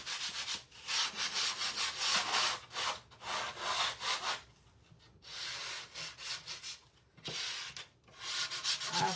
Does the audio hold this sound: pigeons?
no